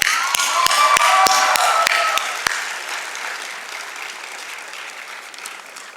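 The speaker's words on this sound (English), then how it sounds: "Let us give all these people a big round of applause." Audience applause at a medical college graduation ceremony in Bangalore: a large crowd claps as a broad roar with a few sharp close claps at the start, then gradually fades and thins toward the end.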